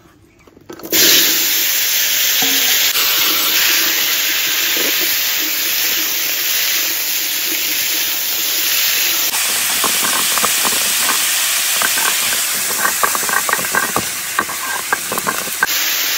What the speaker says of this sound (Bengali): মাছটা তো ভাজা হয়ে গেছে, এখন ওলকপিটা বসাই দেবো